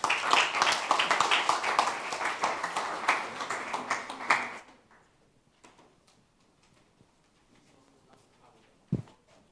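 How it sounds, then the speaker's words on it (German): Audience applause at a youth hackathon project presentation: a burst of clapping from a modest crowd that fades out after about four seconds, followed by quiet room noise, scattered small knocks and a brief thump near the end. "Einen großen Applaus für euch."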